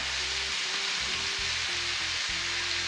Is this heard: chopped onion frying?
yes